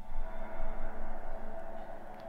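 A synthesizer preset from the D1 iPad app plays a sustained, hollow, sonar-like tone that holds steady for about two seconds, with a soft pulsing swell and no voices.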